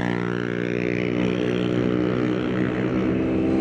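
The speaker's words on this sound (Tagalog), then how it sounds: "Ito nga itong Vespa." A Vespa Sprint S150 scooter riding on a road toward Zambales, its engine giving a steady, loud droning hum with constant wind rush throughout, no voices.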